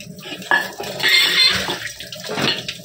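Running water from a tap splashes during washing at home, a steady close gush with a sharp clatter near the start and swelling surges; no talk.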